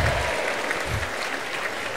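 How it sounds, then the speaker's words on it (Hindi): Applause at an indoor World Vitiligo Day event, a dense steady wash of clapping from a crowd that fills the whole moment. "और एक बार जोरदार तालियां for प्रियेश सिन्हा"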